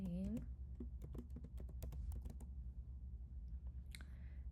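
Keys clicking on a computer keyboard as an item name is entered into an inventory app, a brief run of close taps and clicks that trails off, with a short voice sound at the start.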